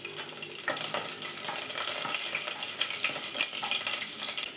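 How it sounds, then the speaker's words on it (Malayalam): Sliced garlic frying in hot coconut oil in a pan, a dense continuous sizzle with crackling bursts and faint stirring scrapes, close and steady throughout. "ഇതിലോട്ട് ആദ്യം 5 വെളുത്തുള്ളി നീളത്തിൽ കട്ട് ചെയ്ത് വെച്ചത് ചേർത്ത് കൊടുക്കാം."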